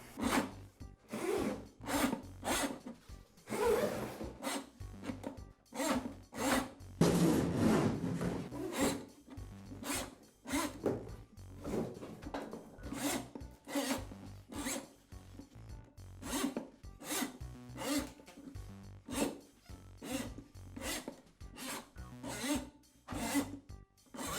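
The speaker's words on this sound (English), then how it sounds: "I'll place the rest of the cable down on the floor and then pull the cable into the drum." A Ridgid drain auger cable is pulled into the drum in a long series of repeated rasping, scraping strokes with an uneven rhythm, close and fairly quiet.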